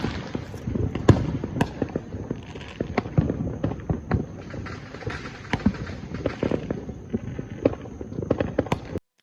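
Fourth of July fireworks, a string of sharp pops and crackles at irregular intervals, some near and loud, others fainter, over a low background rumble.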